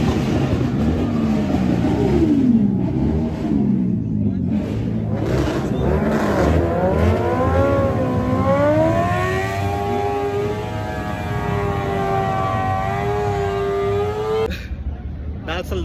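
Loud car engines rev and rise in pitch at a car and bike meet, several overlapping, with a crowd talking and shouting over the noise throughout.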